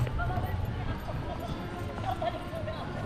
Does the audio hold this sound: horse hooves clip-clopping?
yes